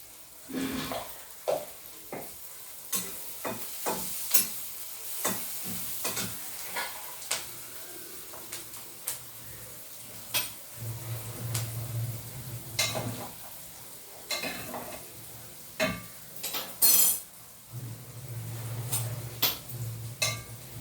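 Broad beans stirred in a pan over an onion tempering, giving a steady low sizzle with repeated sharp clinks and scrapes of a spoon against the pan in an irregular rhythm, close and fairly quiet.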